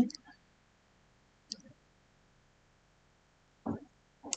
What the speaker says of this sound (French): Donc je clique sur ça et je clique sur OK.